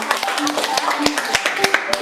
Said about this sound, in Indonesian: tepuk tangan dulu deh